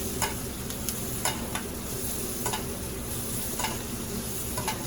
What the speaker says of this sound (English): we're going to raise the pan a little bit and we're going to start basting the fish